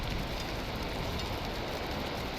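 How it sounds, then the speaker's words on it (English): Steady rain falling in a building and exploring video game, a dense, even hiss of drops on a surface that holds constant throughout without any voices. "Raining. God damn it."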